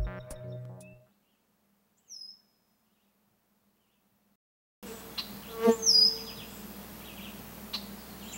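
Quebec honey bees at an apiary on a mead-making estate, buzzing faintly and intermittently outdoors, with short bird chirps, a stretch of near silence, then a fuller background of insect hum.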